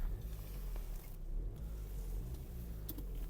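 Renault Megane 3 with a 1.5 dCi diesel engine idling, a low steady rumble with an even, unwavering hum and no voices.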